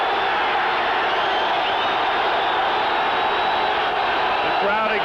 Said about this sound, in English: The crowd exhorts the defense as Elway throws